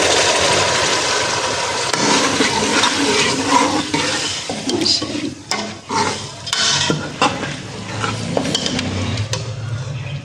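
Urad dal is tipped into fried masala in a pan, setting off a close, lively sizzle with scraping stirs and a few clattering knocks against the pan.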